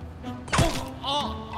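A single hard, dull thump of someone being struck in a Turkish TV series scene, a short close impact followed by a pained vocal groan.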